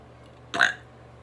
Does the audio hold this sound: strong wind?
no